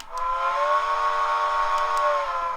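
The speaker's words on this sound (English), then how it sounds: "here's the long whistle" A single long steam whistle sounds from a Bachmann USRA 4-6-2 Light Pacific model locomotive with DCC sound, a sustained breathy tone holding steady for a few seconds before stopping.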